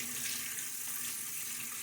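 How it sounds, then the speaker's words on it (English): Water runs steadily from a bathroom tap during a wet shave, a constant close hiss and splash with no talking. "Lots of water here."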